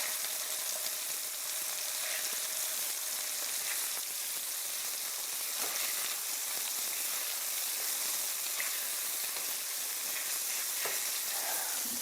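Salmon sliders fry in a pan over a medium flame, giving a steady, even sizzle with faint crackles and pops throughout.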